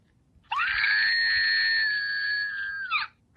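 An Archie McPhee electronic figure of The Scream lets out a single sustained, shrill electronic scream lasting about two and a half seconds, loud and close, ending in a warbling drop.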